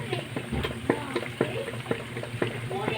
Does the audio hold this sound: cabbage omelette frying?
yes